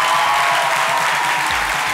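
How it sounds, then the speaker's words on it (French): Dense, steady audience applause fills the whole stretch, a crowd clapping to honor the Burkina Faso Étalons' victory, with no pauses or voices breaking through. "Je vous demande de les applaudir."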